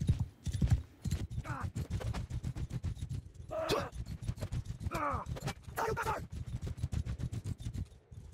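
Horse hooves clip-clop steadily in the Mount and Blade Bannerlord combat game, a rapid rhythmic galloping beat, with several whinnies and neighs rising over it.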